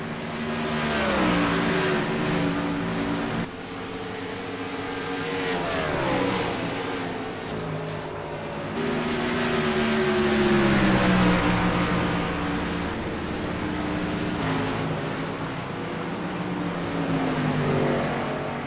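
A pack of race cars roaring around the oval at Dover in a sim racing game, engines droning and shifting pitch as they pass, steady and loud with no talk over them.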